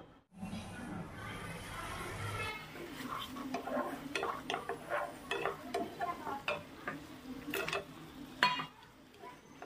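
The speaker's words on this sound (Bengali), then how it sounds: "এবারে দিয়ে দিচ্ছি ফেটিয়ে রাখা টক দই" Whisked sour yogurt stirred into a frying spice mix in a pan for Bengali doi chingri (prawn curry), with a steady sizzle and repeated scraping stir strokes close by, some light clinks.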